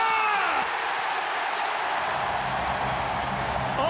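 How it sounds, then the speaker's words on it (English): A football stadium crowd roars in a loud, sustained wash of cheering that lasts the whole moment, with a commentator's voice faintly over the noise. "The crowd find their voice."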